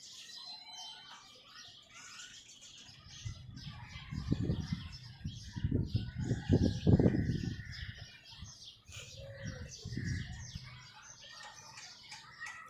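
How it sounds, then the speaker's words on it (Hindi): Birds chirp and tweet from nearby trees, a mix of high calls over quiet outdoor background with a few low thumps and rustles. "ये चिड़ियों का चहचहाना और कोयल का, बुलबुल का"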